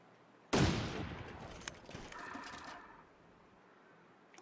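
A single loud, close gunshot fired at a bear in The Long Dark, a sharp crack at the start followed by a decaying rumble and scattered clatter, with no voices.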